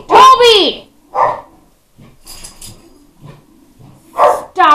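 Dogs bark sharply and close at a car driving past, a loud opening burst followed by scattered yips and a final bark, with a voice speaking in between.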